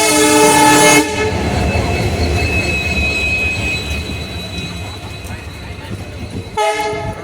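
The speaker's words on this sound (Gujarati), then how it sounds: "આપણી ટ્રેન આવી ગઈ છે." A train horn blasts loudly as a heavy train arrives at a station, rumbling past with rolling wheel noise and a faint squeal, and the horn sounds again briefly.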